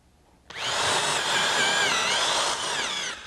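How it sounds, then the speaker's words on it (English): A power drill boring a hole in a clamped wooden board starts abruptly and then runs as a steady, loud, high whine with a slight dip in pitch partway through, close up and with no talk. "Pull the bit out occasionally as you bore to remove debris from the hole."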